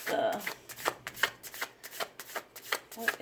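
Tarot cards being shuffled for a clarifier draw, a run of crisp riffling bursts and soft slaps repeating steadily and close by, with no talk over them.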